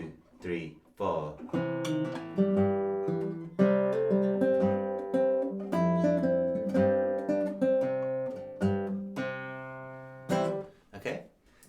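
Plucked fingerstyle guitar bass notes played with the thumb, from the opening of a song, repeat in a low register in a steady pulse, ringing clearly and close up with short gaps between phrases.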